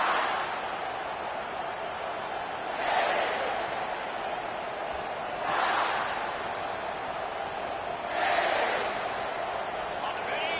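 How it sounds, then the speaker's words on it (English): Stadium crowd noise from a college football video game, Kentucky versus South Carolina: a steady roar with three swelling surges of cheering, heard behind a voice talking. "This crowd bringing the energy and noise early"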